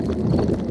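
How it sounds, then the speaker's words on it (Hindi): Daddy Pig's stomach rumbles in a Hindi-dubbed Peppa Pig cartoon, a brief, dense, low gurgling growl that stays steady throughout with no voices. "ये डैडी के पेट की आवाज है।"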